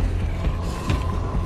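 A firearm being reloaded in the zombie survival game State of Decay 2, a steady mechanical creaking and clicking that runs without pause through the short stretch, close and fairly loud.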